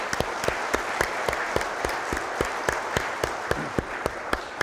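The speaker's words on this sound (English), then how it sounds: "you're giving yourselves a round of applause" Conference audience at an Oklahoma private sector summit claps in a large, even wash of applause, with some distinct sharp claps standing out near the front throughout.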